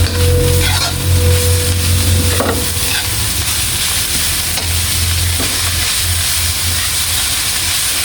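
A spoon stirs seasoning through sizzling bamboo shoot pancit (pansit na labong) in a hot pan, with a steady loud frying hiss and scraping strokes close up.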